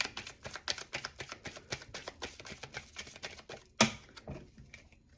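Tarot cards shuffled by hand in a steady run of quick crisp riffles and taps, close and fairly quiet, with one sharper snap near the end and no talking.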